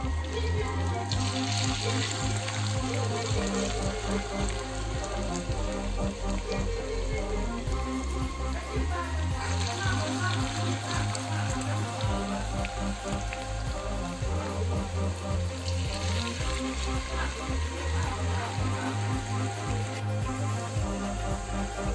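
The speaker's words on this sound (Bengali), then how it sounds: "হাঁস ব্রাউনগুলো ভাজা হচ্ছে।" Hash browns fry in hot oil in a pan, a steady crackling sizzle like rain on a surface that continues throughout, with a repeating low hum in the background and no talking.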